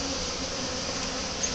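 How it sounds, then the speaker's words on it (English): A loud, constant hum of many honeybees swarming close around a hive, an unbroken buzz with no voices over it. "All those bees on the bottom, Jeff."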